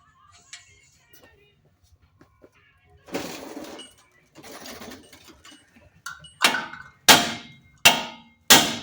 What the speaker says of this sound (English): you're gonna have to hit it right here with the hammer.